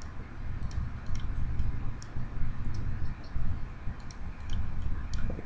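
Light mouse and keyboard clicks come in small irregular clusters over a low background hum, near and faint, with no talk over them.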